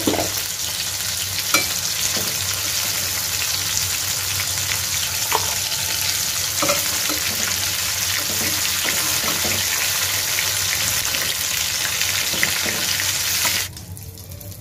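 Marine bele fish fry in mustard oil with a loud, continuous close sizzle and occasional stirring clinks, no voices, cutting off abruptly near the end.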